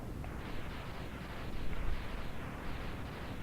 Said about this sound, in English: don't you just love those 16-bit era explosions?